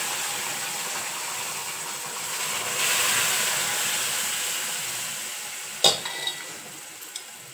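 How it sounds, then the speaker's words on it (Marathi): Hot milk poured into frying semolina for sheera sets off a broad hissing sizzle that swells and then eases, with a couple of sharp utensil knocks near the end and no talking. "आता आपण याच्यात हे दूध घालून घ्यायचं।"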